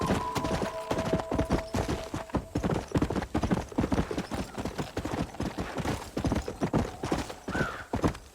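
Horse hooves clip-clop steadily and continuously while riding in the video game Red Dead Redemption, with a brief whinny near the end.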